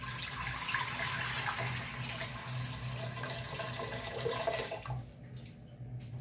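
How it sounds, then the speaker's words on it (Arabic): Water pours steadily into a cocotte pot, a continuous rushing, splashing stream heard up close that cuts off near the end, with no talking. "كناخد الكوكوت ديالي كندير فيها واحد المقدار ديال الماء"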